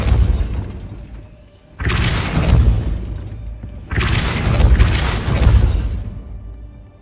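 Two Depulso spell blasts in Hogwarts Legacy, each a sudden loud whooshing crash with shattering debris that rumbles and fades over a couple of seconds, separated by a short quiet lull.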